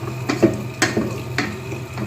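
Chopped green chillies being stirred into a Lucknowi mutton biryani mixture, giving a few soft scraping and clinking strokes of a spoon in a pot with a light sizzle underneath, close by.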